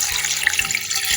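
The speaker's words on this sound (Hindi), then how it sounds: "अब इसमें जाएगा पानी।" Water poured from a tap or jug into a chicken karahi pot while cooking desi chicken karahi, a steady broadband splashing rush lasting about a second, close and fairly loud with no talk.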